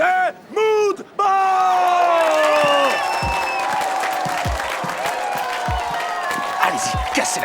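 A television talent-show audience greets a performing band with cheering and applause: a sustained, excited yell rises first, then a loud, continuous roar of clapping and whoops that carries on to the end.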